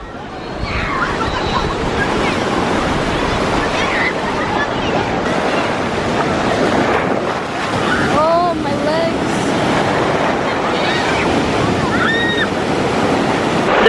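Ocean surf rolls and washes continuously along a beach where surfers wait offshore, a broad steady roar mixed with wind buffeting the microphone and faint distant voices.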